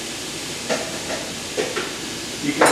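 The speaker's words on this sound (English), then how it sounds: "You can hear it sizzling already." Sausage sizzling in a hot pan gives a steady, soft hiss with a few brief louder crackles, mid-level and close, with no talk.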